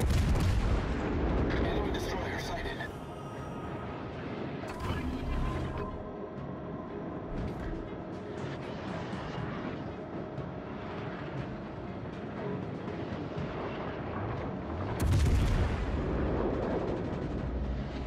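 Battleship naval guns boom repeatedly in World of Warships Legends, a V Pensacola cruiser firing heavy shells amid mechanical clanks and rumbling, with a sharp loud salvo near the end.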